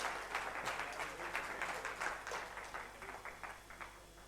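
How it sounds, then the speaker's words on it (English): Applause from students in a lecture hall during a physics lecture, a moderate burst of scattered clapping that stays steady for a few seconds before thinning out. "Can we have a round of applause?"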